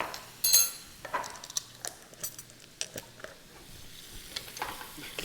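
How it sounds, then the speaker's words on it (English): Minced garlic sizzles in a pan with onions and peppers for salmon cakes, a faint steady frying hiss broken by scattered light stirring scrapes and taps. "At this stage, I want to add a little minced garlic."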